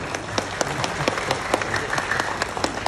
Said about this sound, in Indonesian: Ya tepuk tangan dulu ya